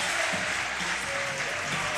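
A basketball crowd in a gym cheering and clapping loudly during a timeout in a high school game, a dense continuous roar of applause with music faintly underneath.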